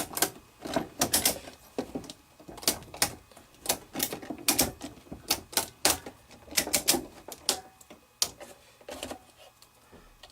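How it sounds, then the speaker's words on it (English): A ratchet strap is cranked tight on a 3.5 mil tarp, giving a series of sharp, close clicks in irregular bursts with short pauses between strokes. "we're going to go ahead and see how much we can tighten on the ratchet strap here"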